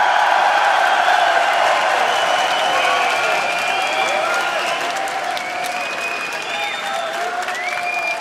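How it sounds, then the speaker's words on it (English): A large crowd at a League of Legends esports match applauds steadily, a dense wash of clapping with some cheers and whistles rising through it, continuing throughout. "this is a pretty awesome crowd"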